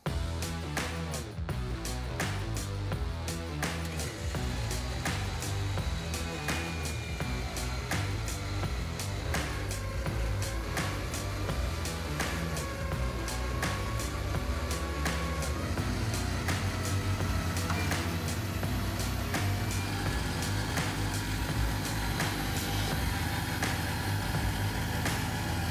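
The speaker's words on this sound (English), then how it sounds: "Let's get to winching." A powersports winch reels in its line during a single-line pull, giving a steady, loud mechanical whir with a constant motor drone, running without pause and with no talking.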